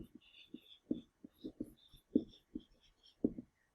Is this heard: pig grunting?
no